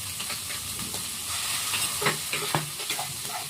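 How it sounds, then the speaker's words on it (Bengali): A spice paste of ground cumin, ginger, coriander leaves and green chili fries and sizzles in a pan, a steady close hiss with soft stirring scrapes and occasional louder pops, no voices. "সেই কারণে আমি আগে মশলাটা কষিয়ে নেবো।"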